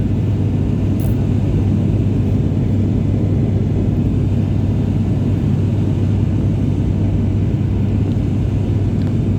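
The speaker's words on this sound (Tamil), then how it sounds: "பார்த்தீங்களா பயங்கர மேகமூட்டத்தில் ஓடி களத்தில் இறங்குறாருங்க" An Indigo passenger plane lands through heavy cloud cover near Chennai, giving a loud, steady, deep rumble that holds without a break from start to finish, with no voices.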